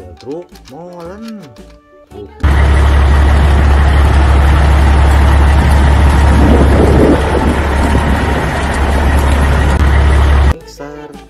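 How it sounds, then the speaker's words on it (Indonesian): Cement mixer truck engine, a loud, steady low rumble that runs unbroken for about eight seconds, starting and stopping abruptly, with brief speech-like sounds before and after it. "Mobil truk molen."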